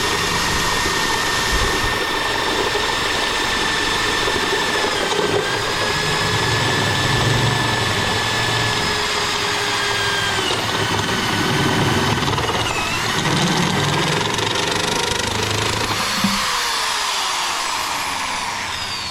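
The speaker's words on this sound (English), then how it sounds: "let's see how this Amazon bit holds up. It's a step drill bit" A power drill whines steadily while a step drill bit grinds through material on a Hesston 6650 farm machine, its pitch dipping briefly several times as it bites in.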